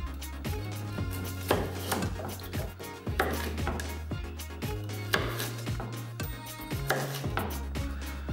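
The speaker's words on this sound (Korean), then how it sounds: "우선 당근은 길게 썰어줍니다." Knife slicing carrots lengthwise on a chopping board, a quick series of crisp cuts and taps under steady background music.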